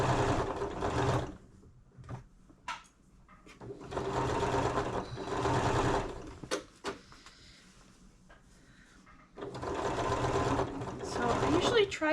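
A sewing machine stitches a 5/8 inch seam on a dress bodice made from Butterick pattern 6956. It runs in three bursts with quieter pauses between them, where faint handling and fabric noises are heard.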